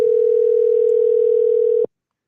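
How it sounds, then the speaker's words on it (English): A telephone ringing tone sounds while a call is placed: one steady, loud, unbroken tone hums for nearly two seconds, then cuts off abruptly into silence. "hopefully he answers the phone"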